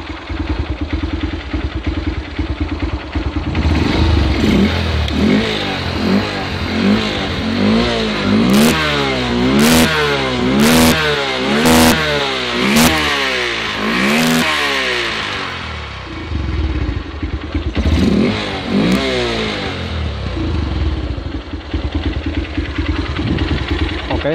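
A Honda New Megapro motorcycle engine with a hesitating, sputtering pull at 4,000–5,000 rpm, revved repeatedly in quick rising bursts over a steady, loud idle, close by with no talking.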